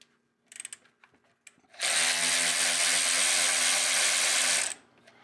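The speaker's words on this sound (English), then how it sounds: "we are taking off the caliper" A power tool whirs loudly and steadily for about three seconds while the brake caliper comes off a Jeep XJ, following a few light clicks and clanks of tools.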